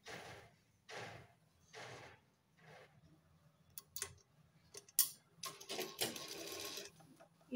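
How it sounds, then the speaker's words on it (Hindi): A sewing machine stitching a kurti sleeve runs in short separate bursts of rapid ticking, each about half a second long, then in quicker, denser runs toward the end. The sound is close and fairly quiet. "अब हम यहाँ आस्तीन पर सिलाई लगाएंगे।"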